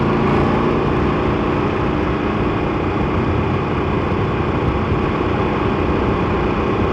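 A KTM 1390 Super Duke R Evo motorcycle engine drones steadily and loudly throughout while riding, a dense, constant roar with wind noise and no break in level.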